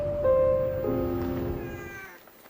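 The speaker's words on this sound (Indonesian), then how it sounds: "Ternyata orang ini punya kucing peliharaan." A pet cat meows in an apartment room in a Korean drama scene, two drawn-out, tonal meows in quick succession, close and clear, with quiet room sound behind.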